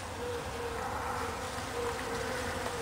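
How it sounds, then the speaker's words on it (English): Bees buzz steadily close by around Trichocereus terscheckii cactus flowers, a continuous droning hum with slight shifts in pitch as they move around, over soft outdoor background noise. "the bees are hard at work for us,"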